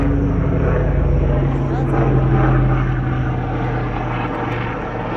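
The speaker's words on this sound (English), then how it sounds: "There was a helicopter flying over me." A helicopter drones loudly overhead, its steady engine roar filling the whole stretch without letting up.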